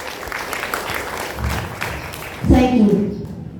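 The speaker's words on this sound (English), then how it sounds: "Let us give them a round of applause." Applause rises at a graduation ceremony, a crowd clapping in steady noise that swells after the speaker's voice, with talk heard earlier.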